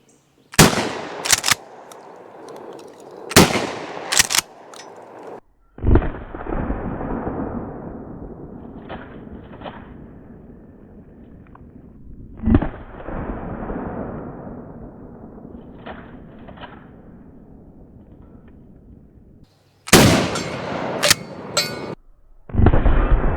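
A Mossberg 590A1 Retro 12 gauge shotgun fires on a range: loud, sharp blasts come singly and in quick pairs, each followed by a long rumbling echo decaying between shots.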